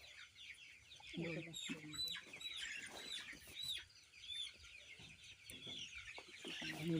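Broiler colour-bird chickens cluck and squawk in agitated bursts as they are caught on a farm, with a steady chorus of birds throughout and some voices mixed in.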